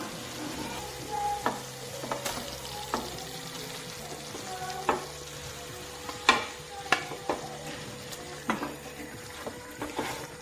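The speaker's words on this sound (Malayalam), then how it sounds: "ഈ സമയത്ത് നമുക്ക് ചിക്കൻ പീസുകളെല്ലാം ഇട്ട് കൊടുക്കാം." Chicken pieces frying in a masala gravy for masala shawaya, a steady close sizzle broken by sharp clinks and scrapes of a spoon stirring the pan, with no talking.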